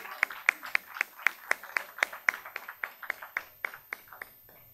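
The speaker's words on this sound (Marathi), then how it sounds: "अनघाताईंसाठी जोरदार टाळ्या होऊ देत." Audience at a Marathi solo-performance competition final applauds an award-winning actress, with roughly twenty sharp, evenly spaced claps that ring out clearly and fade slightly toward the end, with no voices over them.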